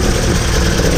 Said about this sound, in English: So I'm just letting Miss Huff idle.